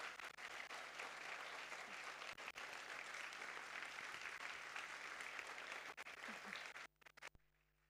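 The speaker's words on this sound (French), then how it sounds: "Je crois qu'on peut les applaudir encore une fois bien fort." An audience applauds laureates at a school prize ceremony, with dense, steady clapping that fills the room for several seconds and then breaks off abruptly near the end.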